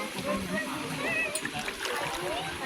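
Flowing water, a continuous close splashing and gurgling wash with people talking over it.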